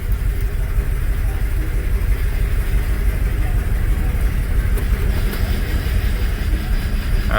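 A 1996 Jeep Grand Cherokee engine idles steadily in gear with the headlights and heater on, a continuous low rumble running through the whole stretch with no revving.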